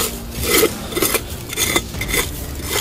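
Dirt is scraped repeatedly along a rural trail during a treasure dig, a series of close, raspy scratching strokes in an irregular rhythm with no talking.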